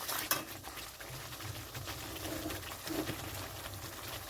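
Spice masala for chicken curry sizzling and being stirred in a pan, a steady frying hiss with scraping and clinking of a utensil against the metal, close and continuous.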